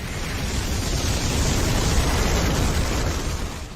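A massive, sustained explosion roars with dense rumbling noise, loud and unbroken throughout, from an anime scene.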